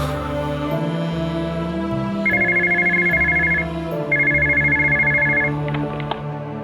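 A telephone rings in two long electronic trills, each lasting about a second and a half, over a steady musical score in a Hindi television drama scene.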